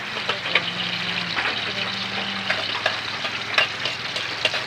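Garlic frying to light brown in a pan for pancit, a steady close sizzle with occasional sharp stirring taps and scrapes, no voices.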